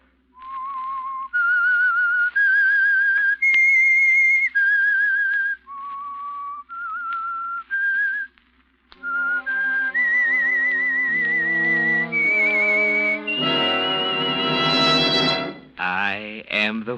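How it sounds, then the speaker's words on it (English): A loud, clear whistled melody of sustained pure notes stepping up and down opens a 1945 radio mystery program, then turns into a brassy orchestral passage with rising chords. "That whistle is your signal for the Signal Oil Program"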